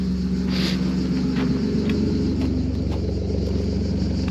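A decatted BMW E36 325i idles with its exhaust running, giving a loud, steady low rumble close by, with a deep throbbing pulse and faint ticking clicks above it.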